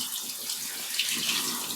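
Tap water runs steadily into a French press during rinsing, a continuous bright splashing hiss with no voices.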